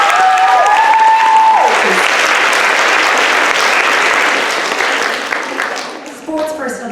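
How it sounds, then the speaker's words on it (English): An audience at a junior school prizegiving bursts into loud, dense applause for teachers, many hands clapping steadily before the sound thins and tapers toward the end. "so can we give them a round of applause?"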